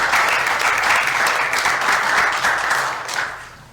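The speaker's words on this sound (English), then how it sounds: "a round of applause, really appreciate it." Sustained applause from the crowd at a Grand Forks city council meeting, a steady wash of many hands clapping that holds loud and even before tapering off toward the end.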